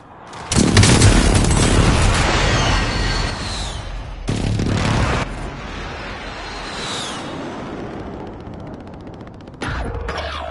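Airstrike explosions in a video game: a heavy booming blast with rumbling debris opens, followed by another loud impact a few seconds later and a third near the end, each sustained and close.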